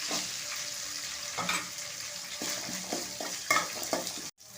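Cumin, curry leaves and shallots fry in hot oil, a steady loud sizzle broken by stirring scrapes, with a brief sharp clatter near the end and no talking.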